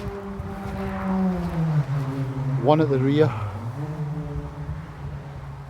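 Motorbike engines drone nearby beside an ultralight tent pitch, a low steady hum that swells and bends in pitch as one passes, under someone talking close to the microphone.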